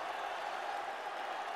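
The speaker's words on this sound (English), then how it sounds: "The crowd is abuzz here at Madison Square Garden." A boxing crowd at Madison Square Garden buzzes with a steady, even wash of murmuring and scattered clapping, brief and moderately loud.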